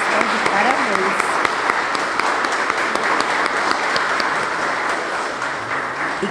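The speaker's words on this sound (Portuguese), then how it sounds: "queria pedir uma salva de palmas para essas 3 meninas que fizeram tão bonitas" An audience applauds three girls after their performance at a Spiritist talk on children's education, a dense, steady round of clapping that fills the room throughout, with voices faintly mixed in.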